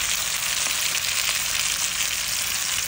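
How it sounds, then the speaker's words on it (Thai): Onion and curry paste sizzle steadily in hot oil while being stir-fried for a Thai curry-powder shrimp and squid dish, a dense, continuous frying hiss with no talking. "แล้วก็ทำการผัดนะครับทุกคนผัดให้หอมพอสุกๆนะครับ"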